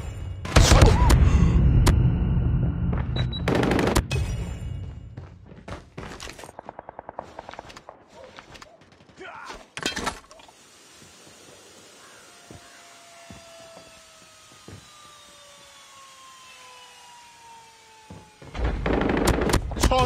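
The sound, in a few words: gunfire from a deployed sentry gun in a video game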